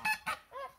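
Several domestic geese honk close by in a farmyard, two loud harsh calls followed by a lower, more drawn-out honk, with no talking.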